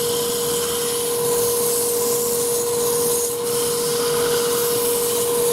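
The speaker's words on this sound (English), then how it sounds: "we're going to move on to the impressive tool of sandpaper on a stick" Sandpaper wrapped on a stick rubs steadily against a turned wooden bowl, a continuous close, loud abrasive hiss with a faint tonal hum beneath, no voices.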